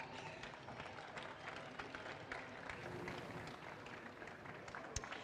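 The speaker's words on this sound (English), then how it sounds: "we welcome with applause the AM-class winner, Andrew McPherson and Ben Porter" Applause at a GT World Challenge Asia podium ceremony at Sepang International Circuit: faint, steady clapping from a crowd heard at a distance with a busy background, continuing for several seconds.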